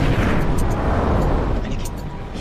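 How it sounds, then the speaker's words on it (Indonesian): A huge gunpowder storehouse blows up in a film battle scene, a loud, dense rumbling roar with crackling debris that stays heavy throughout and eases slightly toward the end. "Ia lakukan perlawanan dan membakar gudang Mesiu sehingga menimbulkan ledakan besar."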